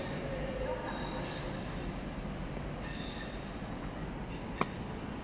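A West Coast Main Line train rolls to a stop at its terminating platform in London Euston, a steady low rumble of wheels and station ambience filling the space, with one short sharp squeal or clank near the end.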